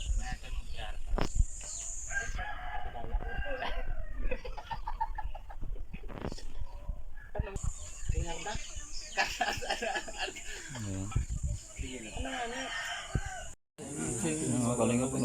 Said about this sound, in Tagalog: Sama-sama yung itik.